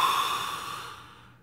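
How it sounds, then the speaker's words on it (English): A deep diaphragmatic exhale during an abdominal mobilization exercise, a single close breath pushed out through the mouth that trails off over about a second and a half, with no talking. "take deep breaths, deep diaphragmatic breaths, breathe into your belly. And then fully exhale."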